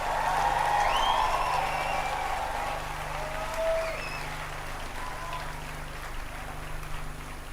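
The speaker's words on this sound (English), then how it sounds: "Let us give them a round of applause." An audience at the USIU-Africa 45th commencement ceremony applauds university staff, a steady wash of clapping hands that runs the whole stretch, loudest early on and easing slightly.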